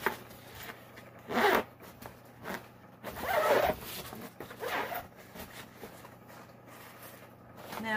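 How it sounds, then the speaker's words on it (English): A clothing zipper on a newly bought item is zipped and unzipped in several short, quick strokes, close and crisp against a quiet room, with brief pauses between pulls. "This zips up."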